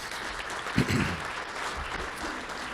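Soft applause from the audience at a city and county address, a low, even patter of clapping with one brief louder thump near the start.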